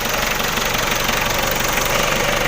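A Mitsubishi Adventure's 4D56 diesel engine idles loudly and close, a steady knocking rumble with a rough, rattling diesel clatter throughout and no voices.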